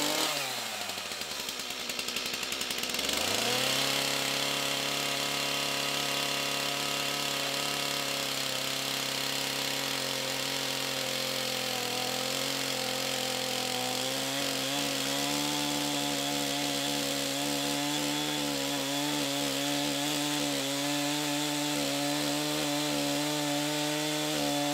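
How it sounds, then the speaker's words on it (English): A chainsaw revs up and cuts steadily through timber for building a vintage barn, a loud, close, continuous engine whine whose pitch dips and wavers as the blade bites, running without talk. "So I'm going to try the chainsaw, see if it's quicker, see what that cut looks like."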